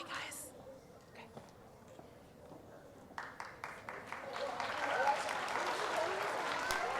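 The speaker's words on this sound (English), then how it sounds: "So one last round of applause." Audience applause at a school junior assembly, starting with scattered claps and swelling into a steady, fairly loud round of clapping from a room of children, with a voice briefly heard at the start.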